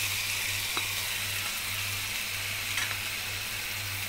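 Carrots hitting a hot pan for a home-style Egyptian okra-and-meat tagine, giving a steady close sizzle and hiss with a low background hum and a couple of faint stirring clicks, no talking.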